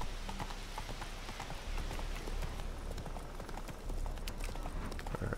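Roach the horse gallops in The Witcher 3, hooves clip-clopping in a fast, steady rhythm that runs close and loud the whole way through, with no talk over it.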